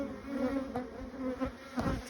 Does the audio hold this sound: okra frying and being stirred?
no